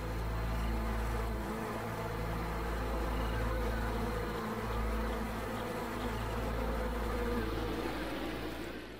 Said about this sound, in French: À l'intérieur, l'essaim s'active en prévision de l'été